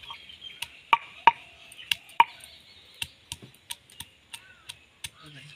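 Garlic cloves pounded into paste by hand for a duck curry, a series of sharp, close knocks in an uneven rhythm, some louder than others, against a faint background hiss.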